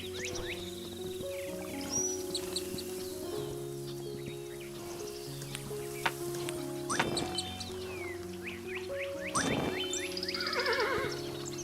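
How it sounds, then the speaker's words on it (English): A horse in a video game neighs and whinnies several times over a steady layered background of game music, with faint hoof sounds now and then. "This horse stinks. I can barely run for like any amount of time."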